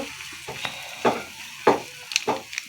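Pointed gourd frying in a pan with Maggi masala, a steady sizzle broken by several scraping stirs, close up and without talk.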